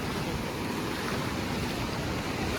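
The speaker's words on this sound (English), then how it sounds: "Look at these waves." Steady, dense roar of ocean surf breaking at a Phuket beach in Thailand, loud and continuous with wind rushing across the microphone and no voices.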